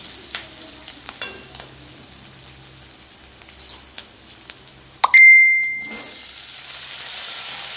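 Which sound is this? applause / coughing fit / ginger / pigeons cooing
ginger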